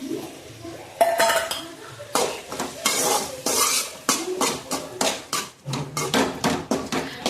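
Cooked mutton tumbled into a pan of sautéed tomatoes in oil for mutton chukka, with a metal spoon scraping and clanking against the pan in irregular bursts over a soft sizzle, close and fairly loud.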